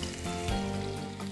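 Chopped onions frying in a pan of hot oil after mustard seeds have crackled, a steady close sizzle with dense crackle throughout, no voices.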